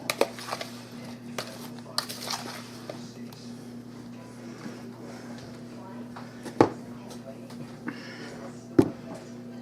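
Chunky green tomatoes seasoned with pepper being stirred in a dish, soft scraping and light clinks of a utensil against the container, quiet and irregular with a few sharper knocks and a low steady hum beneath.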